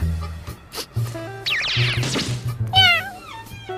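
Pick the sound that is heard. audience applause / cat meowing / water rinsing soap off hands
cat meowing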